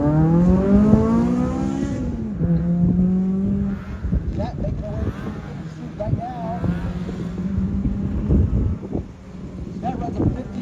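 A race car idles and creeps up to the start line at an SCCA nationals event in clear weather, engine tones gliding and revving with wind buffeting the microphone and voices talking over it.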